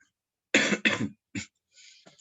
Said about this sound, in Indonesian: saya lagi tidak enak badan, masih batuk